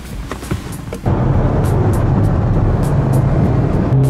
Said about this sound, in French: c'est à moi de prendre le volant de la GTC 4 Lusso T